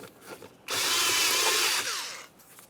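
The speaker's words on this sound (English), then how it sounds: "For this, you can use a flathead screwdriver or an 8mm socket." A power driver with a socket loosens the air inlet clamp on a 2003-2011 Mercury, giving one steady, close, high whirring run of about a second with quiet handling before and after.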